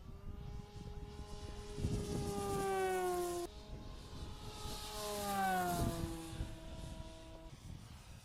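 An H-King Yak-11 Steadfast RC model airplane with a 1450mm span on 6S power flies past twice, its electric motor whining in pitch that rises and then falls as it approaches and recedes, faint and distant.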